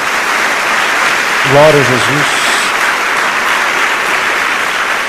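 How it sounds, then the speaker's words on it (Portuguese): Sustained congregational applause in a Portuguese-language church service, a dense, even wash of clapping with a brief shouted phrase of praise rising over it midway. "Dá uma salva de palmas ao Senhor."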